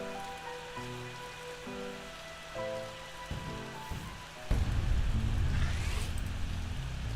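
Rain sound from the Plants vs. Zombies raining seeds minigame, a steady loud patter that swells after a few seconds and plays alongside game music tones, with no talk.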